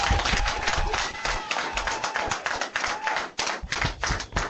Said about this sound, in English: give a round of applause for everyone